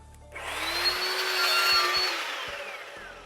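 A chop saw cuts through round pipe held in clamps: the motor whines up, a loud steady grinding cut runs for about two seconds, then the blade spins down, close and alone.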